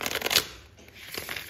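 A deck of oracle cards being ripple shuffled, a quick crisp riffle of cards near and fairly loud at the start, then a softer flutter and a faint rustle of cards settling.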